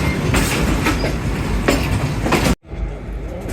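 Passenger train rolling into Hyderabad railway station, a loud steady rumble of carriages with rhythmic clickety-clack of wheels, then an abrupt brief dropout before the rolling noise resumes.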